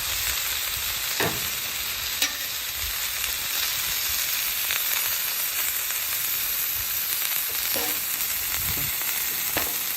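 A smashed burger patty sizzles loudly on a hot griddle, a steady dense hiss with a few scrapes and clicks of a spatula scattered through it, close up and with no talking.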